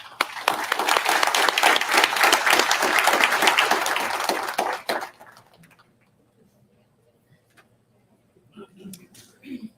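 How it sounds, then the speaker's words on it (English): A room of attendees at a college deans' breakfast gives a round of applause, steady dense clapping for about five seconds that stops abruptly, followed by near silence and a faint voice at the end. "So big round of applause for you guys"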